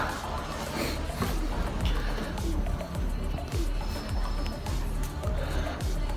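Pigeons coo softly in low, rounded repeated calls, with faint outdoor background noise and no talking.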